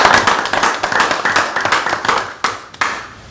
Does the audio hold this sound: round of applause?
yes